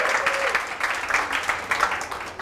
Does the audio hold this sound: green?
no